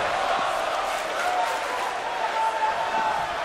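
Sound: stadium crowd cheering at a wrestling show

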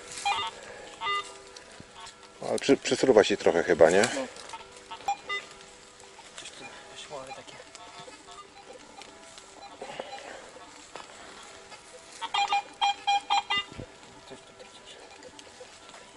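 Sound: metal detector signal beeping

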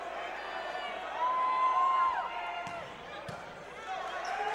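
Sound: vocal crowd at Alumni Gym volleyball match

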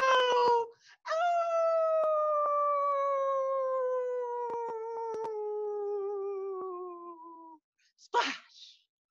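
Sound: person imitating a howl

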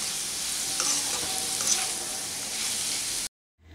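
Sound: stirring potato fry in pan

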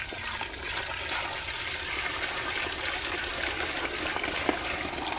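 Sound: water in DIY outdoor fountain

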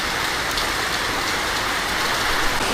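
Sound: rain hitting a tin roof

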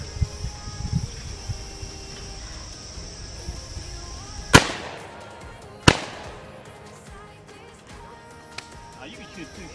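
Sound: shotgun shots at sporting clay targets

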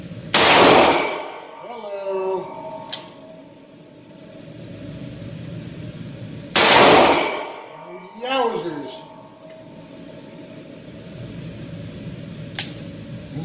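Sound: Ruger GP100 .357 Magnum revolver firing Fiocchi 158 grain rounds

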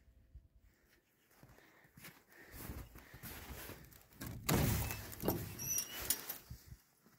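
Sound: greenhouse door being opened in snow

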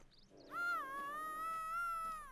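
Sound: bear vocalizing in video game The Hunter: Call of the Wild

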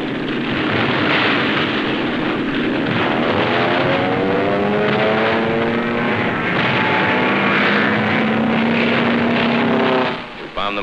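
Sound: WWII aircraft propeller engines over Tarawa

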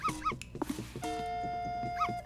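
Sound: dog in the video game Yoshi's Crafted World

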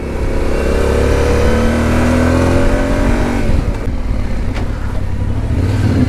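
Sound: motorcycle engine revving

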